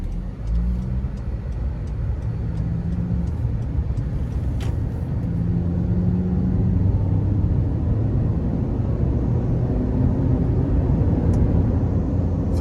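Inside a 2013 Honda CR-V with its 2.4-litre four-cylinder, the engine hum rises steadily under acceleration over road rumble and tyre noise. The sound is continuous and droning, with no talking.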